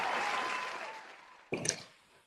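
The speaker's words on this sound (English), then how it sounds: "Let's give her a big round of applause" Brief applause at a law awards ceremony, a fading burst of clapping that dies away before a second short, sharper flurry of claps near the end.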